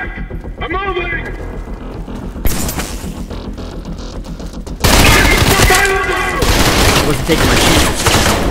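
Rapid bursts of gunfire in the shooter Trepang2, with sustained automatic fire that grows louder and denser halfway through, while someone talks over it.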